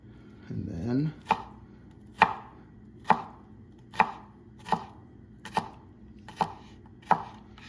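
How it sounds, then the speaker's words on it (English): Knife chopping and mincing on a cutting board while making creamy lemon chicken pasta: a brief rustle at first, then eight crisp, evenly spaced chops ring out close and clear, about one per second, with nobody talking. "you just kind of run your knife through it. And you can mince this up as small as you want"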